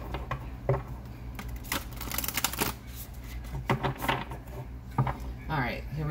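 An oracle card deck is shuffled by hand, giving soft papery riffling and flapping bursts, close but fairly quiet, with a low room hum underneath.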